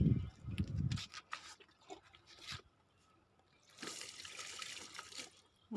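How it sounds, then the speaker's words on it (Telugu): Water is sprinkled by hand onto a compost heap of dry leaves, rooftop sweepings and bitter gourd and ridge gourd vines, giving soft scattered splashes and trickles, first in short bursts, then a steadier patter near the end. "ఇట్లా నీళ్ళు కాసిని చల్లి పెడతామండి"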